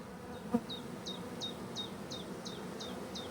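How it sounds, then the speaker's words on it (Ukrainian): Honey bees buzz steadily around a swarm at an apiary, a continuous close drone with a sharper insect whine recurring at regular intervals over it. "Ну це ще тут бджоли будуть трясати."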